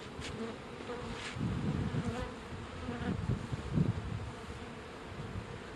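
Honey bees buzzing at a beehive, a continuous close swarm hum with swells and dips in loudness, no voices.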